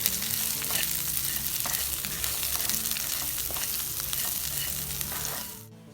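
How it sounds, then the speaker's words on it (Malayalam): A vegetable dish with coconut, salt and turmeric sizzling and frying steadily in a pan, a loud continuous crackle with faint stirring scrapes, fading out at the end. "ഇനി ഇതിലേക്ക് ഉപ്പും പിന്നെ മഞ്ഞൾപ്പൊടിയും കൂടെ ഇട്ടിട്ട് അതൊന്ന് മിക്സ് ചെയ്തതിന് ശേഷം അടച്ച് വെച്ചിട്ട് വേവിക്കുകയാണ്."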